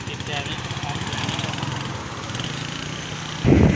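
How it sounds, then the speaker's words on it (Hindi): A Honda CD70 motorcycle engine, converted to run without a clutch, runs in gear with a steady, rapid thumping putter close by, ending in a brief louder burst. "ये हमने गेयर लगाया है, अब इसको हम चलाएंगे गेयर के साथ"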